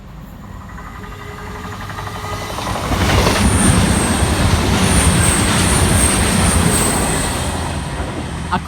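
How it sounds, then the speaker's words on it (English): A CrossCountry passenger train rumbles past close by in the Doncaster area, a steady broadband roar of wheels on rails swelling in the middle and easing off, with a faint high squeal. "Check your timetable, it's the cross country."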